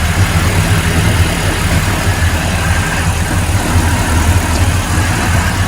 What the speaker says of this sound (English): Let's take a quick look in the engine bay here with the engine running